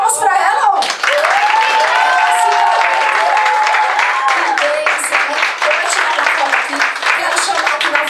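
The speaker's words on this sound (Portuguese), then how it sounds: "Ah, salva de palmas pra ela, ó." A church congregation claps for women called to the front, a loud sustained round of applause with voices and cheers rising over it throughout.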